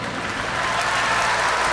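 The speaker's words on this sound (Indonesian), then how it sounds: "Tepuk tangan." An audience applauds after a public university lecture at Universitas Tadulako, a dense, steady wash of many hands clapping that holds at an even, fairly loud level throughout.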